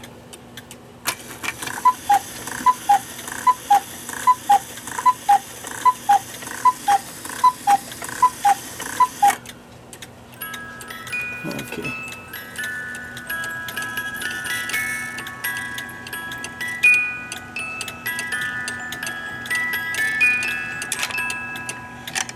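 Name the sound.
cuckoo clock ticking and cuckooing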